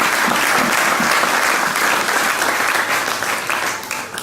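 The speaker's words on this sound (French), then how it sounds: "Put our hands together for Jesus." A church congregation applauding, loud sustained clapping from many hands that fills the room, then thins slightly as it fades toward the end.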